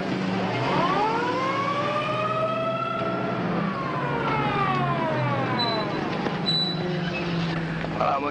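An ambulance siren wails at a 1950s motor race track, its rising and falling tone sweeping loudly and steadily throughout, with a continuous background roar and no speech.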